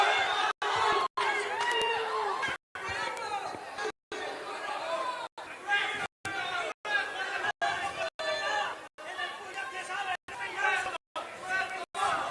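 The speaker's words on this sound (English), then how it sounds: "As you can hear the crowd behind the hometown fighter here" A boxing crowd at a fight night in Tijuana chatters and chants for the hometown fighter, a busy babble of many voices with rhythmic shouts, repeatedly cut by brief dropouts of silence.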